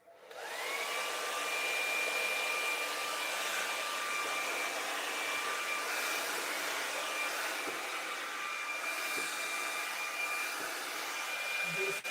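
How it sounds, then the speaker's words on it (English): An 1875 Pro Crimson blow dryer running on the cool, high setting, a steady loud whooshing roar with a faint whine that lasts throughout, with no talking. "I'm going to use my 1875 Pro Crimson blow dryer"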